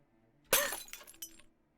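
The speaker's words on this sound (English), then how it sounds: "Was that a sound of breaking glass?" Glass shatters close by in a visual novel game, one sharp loud crash followed by a short tinkling tail and a smaller second break, with near silence around it.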